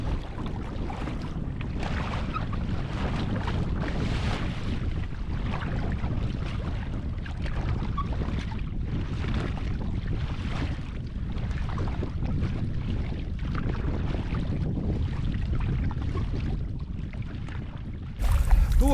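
Strong wind gusts buffet the microphone steadily while paddling a boat on Lake Inarijärvi in Lapland, a continuous broadband roar with water sloshing beneath, ending with a brief louder bump.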